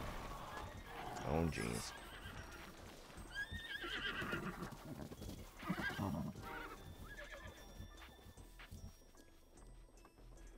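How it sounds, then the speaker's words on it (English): Horses in The Legend of Zelda: Breath of the Wild whinny loudly and repeatedly over the clip-clop of galloping hooves, while a man briefly exclaims amid the commotion. "Do not trample me, horses."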